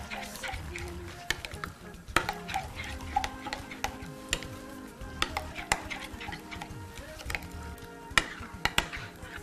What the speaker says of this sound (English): shallots, and just give it a quick stir just to blend it.